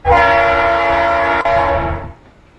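A locomotive horn from Garry's Mod sounds alone in one long, loud, chord-like blast with a brief dip midway before it cuts off.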